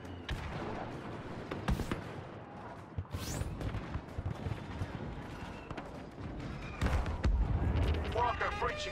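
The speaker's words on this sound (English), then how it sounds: "AT-AT taking fire!" Blaster fire strikes an AT-AT walker in Star Wars Battlefront 2, a dense battle din of repeated shots and heavy booms, with voices speaking over the combat throughout.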